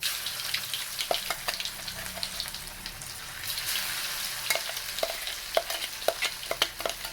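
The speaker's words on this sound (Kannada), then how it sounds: "ಈ ರುಬ್ಬಿರೋದನ್ನೆಲ್ಲ ಹಾಕಿ ಚೆನ್ನಾಗಿ ರೋಸ್ಟ್ ಮಾಡ್ಕೋಬೇಕು" Ground raw mango paste roasting in a hot pan for raw mango chitranna, a soft steady sizzle punctuated by repeated scraping stirs from a spoon, close and moderately quiet with no talking.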